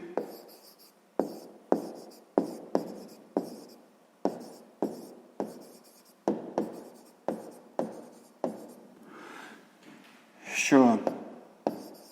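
A pen writes out a sixth-grade maths exercise on subtracting rational numbers, tapping and scratching in a steady series of short strokes. A brief voice joins near the end.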